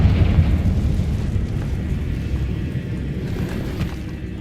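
A Confringo blasting curse in Hogwarts Legacy goes off as a deep, rumbling explosion, loud and close, with a heavy low roar that lingers and slowly fades.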